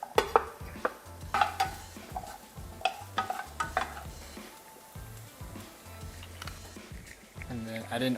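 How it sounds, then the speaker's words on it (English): Onions and tomatoes sizzle softly in a soup pot as a spoon stirs them, with repeated clinks and scrapes against the pot while a person talks over the cooking. "And then add in our tomatoes. And we want to cook these until the onions are translucent and the tomatoes are blistered."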